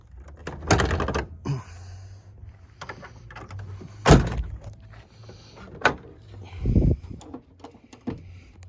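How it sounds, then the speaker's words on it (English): Hood of a 1969 Corvette is popped and lifted, giving a few sharp metallic clunks and latch clicks with quiet rustling between them, close and fairly faint. "Let's pop this hood."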